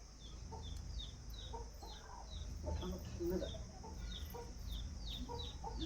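Several chickens cluck in short repeated bursts at a moderate distance, over steady outdoor background noise and a faint voice.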